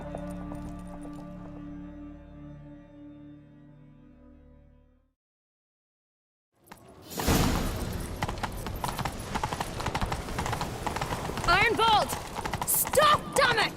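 Horse hooves clip-clopping in a fast gallop in The Witcher 3, loud and close after a brief silence, with occasional whinnies and game voices over the pounding rhythm.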